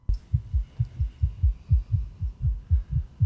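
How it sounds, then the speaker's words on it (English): A rapid heartbeat sound effect from the TV series Interview With The Vampire thumps in quick, evenly paced double beats, deep and prominent against near silence. "Why's your heart beating so fast?"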